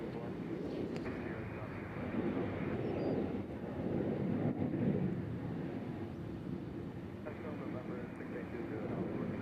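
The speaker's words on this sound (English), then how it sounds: "we got United coming in from Denver, 737 MAX 8. So it'll make some noise." A United Boeing 737 MAX 8 jet arriving at Nashville International Airport, heard as a steady, distant broadband roar that swells slightly midway, with wind buffeting the microphone.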